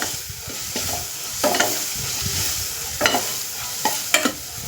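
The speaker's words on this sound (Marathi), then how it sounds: "व्यवस्थित फ्राय करून घ्यायचं." Spices with black masala frying in a pan for a dal dish, a steady sizzle with intermittent scraping stirs of a spoon against the pan.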